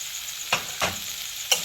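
Tomato, chili, ginger and onion fry in a pan with a soft, steady sizzle, broken by three brief scraping stirs of a spoon.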